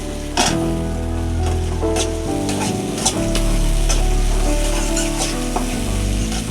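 Shrimp fry in oil with taro stolons, a loud, continuous sizzle close by with occasional scraping stirs and clinks from a utensil against the pan.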